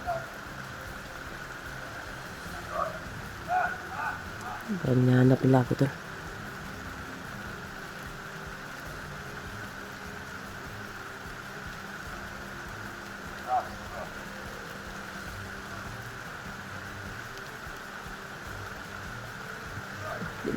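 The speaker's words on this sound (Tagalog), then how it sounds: "Kami hindi masyado marinig dahil sa sobrang lakas ng ulan." Heavy rain pours in a steady, dense hiss that fills the whole stretch, with someone speaking quietly beneath it and a few brief louder knocks.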